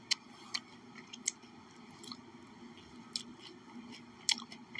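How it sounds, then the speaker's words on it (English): Someone chews raw broccoli close up, with repeated moist crunches and bites scattered irregularly over a steady low background hum. "I'm eating some broccoli right now."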